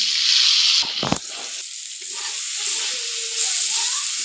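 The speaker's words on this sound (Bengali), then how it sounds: "এখন পেঁয়াজটা ভাজা হচ্ছে" Onions frying in hot oil with a bay leaf and tempering spices in a village kitchen, a loud continuous sizzle and hiss up close, broken by a short burst of stirring clatter, with no voices.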